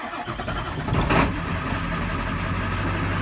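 A cold Ford Super Duty diesel rollback truck cranks and fires up after its glow plug cycle, a brief burst of starter effort settling into a steady, loud, rumbling idle close by.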